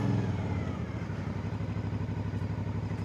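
An Aprilia Dorsoduro 900 motorcycle engine runs steadily while being ridden on a mountain outing, giving a loud, continuous throbbing drone with a fast regular pulse.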